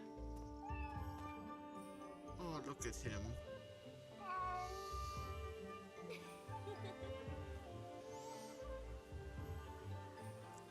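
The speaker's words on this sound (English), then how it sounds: "I want to pet the cat." A cat meows in the Fate/Samurai Remnant video game, short mews rising over game music and effects while someone talks throughout.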